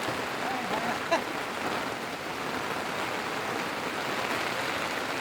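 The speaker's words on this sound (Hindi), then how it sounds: "बहुत तेज़ बारिश हो रही है" Steady heavy rain hisses evenly throughout on a boat on Dal Lake, Kashmir, a dense broadband wash with a single brief tap near the start and no voices.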